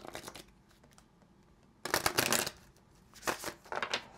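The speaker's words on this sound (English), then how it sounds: "let's get one more shuffle" Tarot cards are shuffled in quick riffling bursts, close up, with brief pauses between shuffles and a final flurry.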